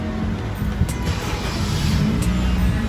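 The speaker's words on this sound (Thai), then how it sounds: "เครื่องยนต์ก็จะสตาร์ทติดนะครับ" A Honda Civic FD runs after a push-button start, its engine a steady, close idle hum and rumble with a slight rise in revs toward the end and no talking.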